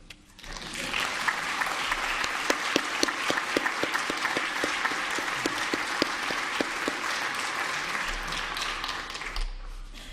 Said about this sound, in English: Now, you can all clap.